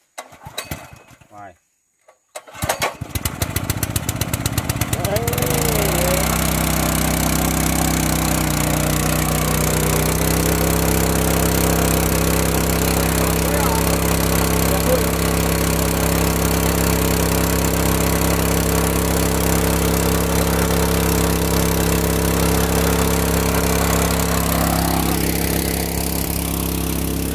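A small engine is pull-started after a few rough cranks, catches and then runs steadily and loudly near the listener, its droning note rising as the throttle is opened, with brief talk at the start.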